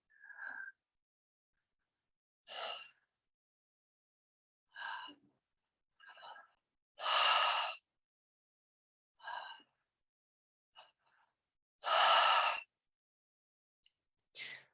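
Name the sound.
heavy breathing during shamanic breathwork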